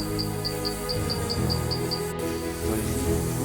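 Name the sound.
insects chirping inside a cave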